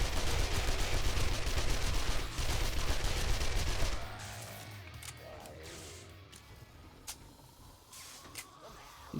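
Dense automatic gunfire against zombies during a horde night in 7 Days To Die, a loud continuous burst of rapid shots that breaks off into scattered single cracks and a quieter tail.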